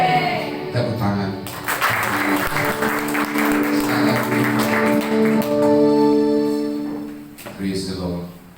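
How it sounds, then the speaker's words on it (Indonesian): Applause from a church gathering opening an apostolic school service, a burst of clapping mixed with voices and tonal sounds, swelling and then tapering off near the end. "Tepuk tangan."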